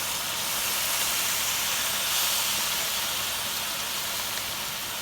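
Chicken biryani base of onions and yogurt cooking in oil, a constant broad hiss of sizzling that holds steady and fairly loud throughout with no talking.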